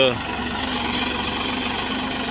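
A tractor engine idles with a steady low throbbing rumble and mechanical knock, running continuously at close range while someone speaks over it.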